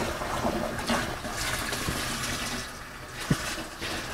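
Cold water pours steadily into a Coopers homebrew beer fermenter, topping it up to 20 liters, a continuous close rushing splash with a brief knock near the end.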